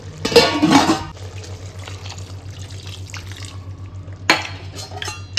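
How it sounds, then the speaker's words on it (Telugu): Water splashes into a pot of chicken curry in two short pours, with quiet stirring and a steady low hum from a stove in between. "నేను ఒక 1/4 గ్లాస్ వాటర్ యాడ్ చేసుకుంటా గ్రేవీ కోసం"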